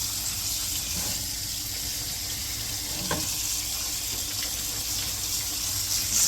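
Ingredients for chilli con carne being rinsed under a running kitchen tap, a steady close hiss of flowing water splashing into the sink throughout, with no talk.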